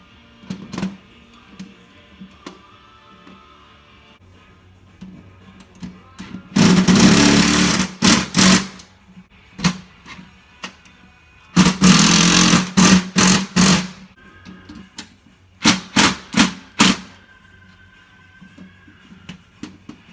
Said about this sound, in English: So I'm going to drill these holes in this thing quick